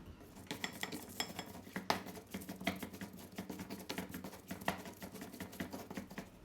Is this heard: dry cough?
no